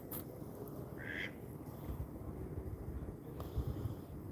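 Ducks at the Venice canals give a short nasal quack or two, fairly distant, over steady outdoor wind and ambient rumble.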